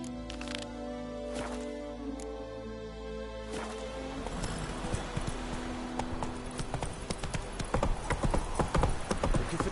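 Roach, the horse in The Witcher 3: Wild Hunt on PS4, breaks into a gallop, with rhythmic hoofbeats that grow denser and louder over game music and ambience.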